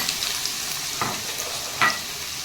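Chopped onion frying in a pan for prawn biryani, a steady soft sizzle with a couple of brief stirring scrapes, close and alone.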